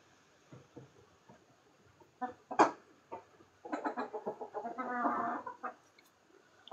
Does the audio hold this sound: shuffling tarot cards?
no